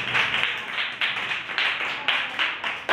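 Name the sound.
students clapping in a classroom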